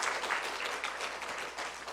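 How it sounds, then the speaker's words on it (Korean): A church congregation claps together during a Sunday worship service, a dense, even burst of applause lasting a couple of seconds in a roomy hall, with no speech over it. "우리 한 번만 또 박수 한번 칠까요?"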